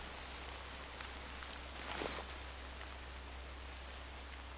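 Rain in the survival video game TerraFirmaCraft, a steady even hiss of falling drops under a low constant hum, with a brief swell near the middle and no voices.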